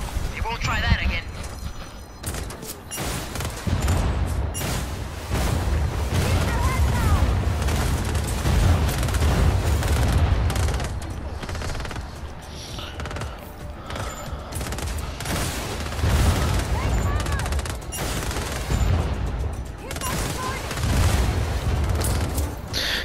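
Steady explosions and rapid gunfire in the video game Just Cause 4, with dense booms and crackling shots running almost continuously for the whole stretch, loud and close, with no talking.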